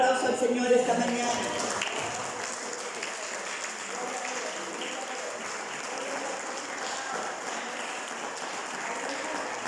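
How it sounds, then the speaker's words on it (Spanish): A church congregation claps for the Lord during a morning service, the applause sustained at moderate level for the whole stretch with some voices and music-like tones mixed in at the start. "¿Cuántos le dan un aplauso al Señor esta mañana?"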